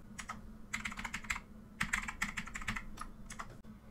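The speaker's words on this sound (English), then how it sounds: "And now here in the Windows Explorer search bar, simply type" Rapid typing on a computer keyboard while entering a path into the Windows Explorer search bar: close, crisp key clicks in quick bursts separated by short pauses, with no talking.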